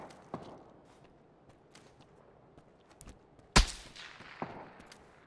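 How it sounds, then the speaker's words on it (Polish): Gunfire in the battle royale shooter PUBG: a few sparse distant shots early on, then a sharp louder burst near the middle followed by scattered echoing cracks, with quiet ambient game sound between them. "To ktoś jednak strzela."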